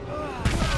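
Grenade blast in the Warhammer 40k: Gladius strategy game, a sudden booming explosion partway through, preceded by a low rumbling game soundscape and followed by a brief decaying rumble, fairly faint overall.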